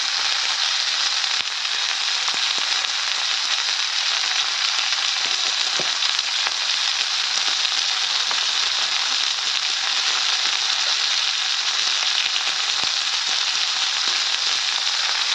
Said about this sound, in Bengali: এখন ওই মাছ ভাজার একই তেলে আমি কিন্তু এই করলা উচ্ছেগুলো ভেজে নেব।